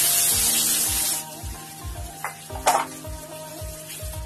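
Chopped garlic dropped into hot oil for restaurant-style crispy chicken, a loud hiss that quickly settles into steady sizzling, with rhythmic scraping and stirring knocks of a utensil against the pan.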